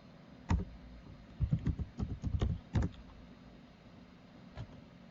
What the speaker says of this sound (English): I'm gonna type it in.